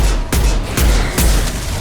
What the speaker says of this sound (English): Look how powerful this pistol is